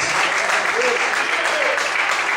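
A church congregation clapping loudly in praise during a service, a dense unbroken wash of many hands, full and close, with voices faintly mixed in.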